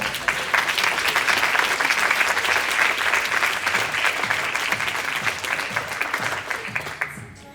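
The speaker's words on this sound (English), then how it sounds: "Let's give a round of applause to these people." Dense, steady applause from attendees at a sales meeting awards presentation, holding strong for several seconds before thinning out and fading at the end.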